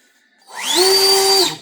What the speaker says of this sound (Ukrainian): я вирішив перевірити оцей фен